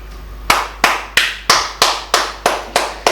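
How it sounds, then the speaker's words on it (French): A single person claps hands slowly and evenly, about eight sharp, close, loud claps spaced roughly a third of a second apart, with no other sound between them. "Ça, je t'applaudis, hein."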